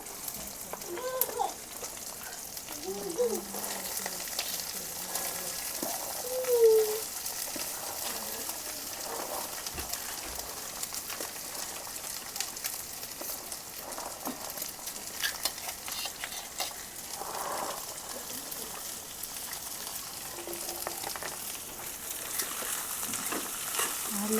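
Cumin seeds fry in hot oil for a Gujarati corn chevdo, making a soft, continuous sizzle with occasional stirring clinks, heard up close, while a quiet voice speaks briefly.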